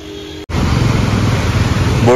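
Motorbikes and other vehicles push through a flooded road in Hatigaon, Assam, making a continuous close, rushing wash of engine and water noise that starts abruptly after a brief quiet moment.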